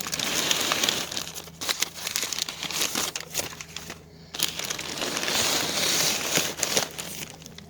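Plastic bags and tissue paper rustle and crinkle steadily as a large box holding a 24-inch doll is unpacked, close and continuous with brief pauses and no talking.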